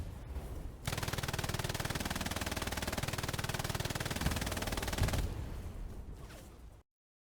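Machine gun fire in the World War II shooter Hell Let Loose: a long, dense burst of rapid automatic shots for about four seconds, then a fading echo and silence.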